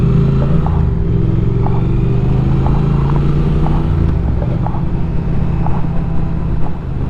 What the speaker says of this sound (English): Love the way this bike sounds